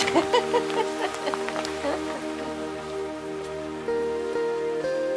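Rain falls in Vannes, France, a steady close patter of drops on surfaces, dense at first and thinning slightly, with a faint tonal hum underneath.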